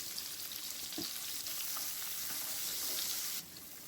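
Chopped small shallot onions sauté in oil for a salna, making a dense, steady sizzling hiss with faint stirring underneath, close and unbroken, with no talking.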